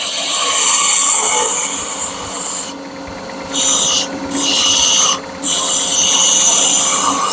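A gouge carves into wood in steady, loud, close scraping strokes, a continuous rasping texture broken by a few short pauses between cuts.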